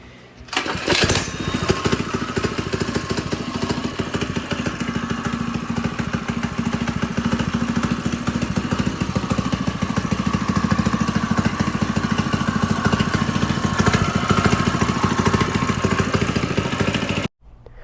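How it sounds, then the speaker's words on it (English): A small FRP GMB 100 mini bike engine fires up and runs, a loud, steady buzzing putter that holds for about sixteen seconds close by before cutting off abruptly. "the bike is fully built, and now I'm gonna see if it will start"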